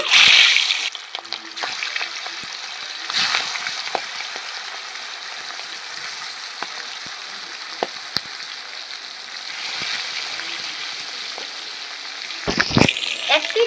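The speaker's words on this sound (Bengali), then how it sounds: "মাছগুলো আমি ভেজে নিচ্ছি" Magur catfish frying in oil in a pan over a clay stove, a steady close sizzle with bright crackling spatter that runs throughout, swelling and easing slightly as the pieces are moved.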